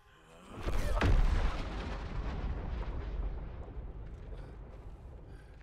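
A heavy blast from gunfire in the video game Suicide Squad: Kill the Justice League, with a sharp crack followed by a long, booming rumble that slowly fades over several seconds.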